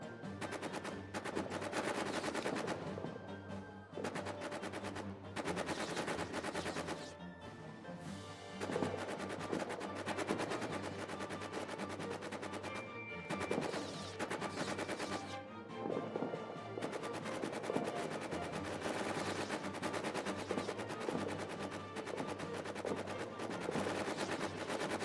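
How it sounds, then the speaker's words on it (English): Sustained heavy machine gun fire in a WWI trench warfare video game, dense rattling bursts running almost continuously with brief pauses, steady and fairly loud throughout. "I am under heavy machine gun fire"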